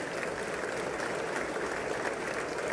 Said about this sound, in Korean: 계속 박수를 멈추지 않고 계속 치고 있네요